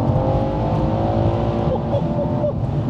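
An 800 bhp biturbo Mercedes C63 AMG accelerating hard in gear from inside the cabin, a loud, sustained engine roar climbing steadily in pitch.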